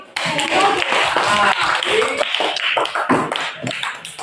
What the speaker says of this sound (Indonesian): tepuk tangan dulu untuk Peli